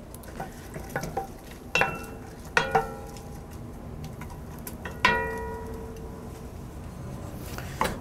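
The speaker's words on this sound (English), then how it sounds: "And that is just starting to sizzle." Onions, carrot and celery begin to sizzle in a large saucepan, a soft, low frying hiss under several sharp metallic clinks and knocks of a utensil against the pan at irregular intervals.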